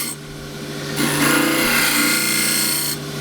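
A one-inch bowl scraper cuts wood on a lathe while turning a small natural-edge bowl, a steady close rasping that swells louder after the first second and holds before easing off near the end.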